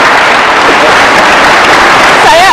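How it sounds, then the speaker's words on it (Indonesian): A studio audience at a stage talk show applauds loudly and continuously, with a voice rising over the clapping near the end. "Kasih tepuk tangan dong untuk Kiai Haji Mustafa Misri."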